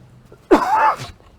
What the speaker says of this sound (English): I've got a cough this morning.